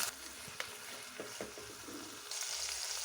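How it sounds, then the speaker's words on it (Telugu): Onion and small-cut tomato pieces frying in a pan for Yippee instant noodles, a steady soft sizzle with occasional stirring clicks, quiet and close, the hiss rising toward the end. "ఆనియన్ బాగా ఫ్రై అయ్యాక 1 మీడియం సైజ్ టమాటా చిన్న పీసెస్గా కట్ చేసుకొని యాడ్ చేసుకున్నాను"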